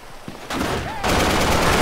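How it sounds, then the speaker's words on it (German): Gunfire in GTA 5 during a SWAT mod police shootout in a lab, with dense, continuous bursts of shots that grow louder after the first half-second and keep rattling to the end, and a player's voice faintly underneath. "es schießt hier dauerhaft irgendeiner rum"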